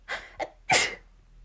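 A zebra sneezes in a storybook sound effect, two short sharp intakes followed by one louder burst, close and alone.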